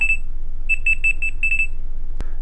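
Amazon Fire tablet remote alarm sounding as a loud, shrill electronic beep pattern in quick pulsed groups, heard close, with a single sharp tap near the end.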